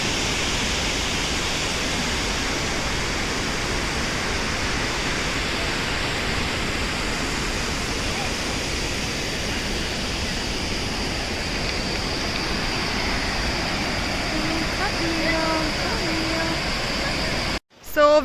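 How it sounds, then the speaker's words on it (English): Dudhsagar waterfall roars from its fog-covered base, a loud, steady wall of rushing water that holds unbroken until it cuts off abruptly near the end. "The base view of Dudhsagar waterfalls."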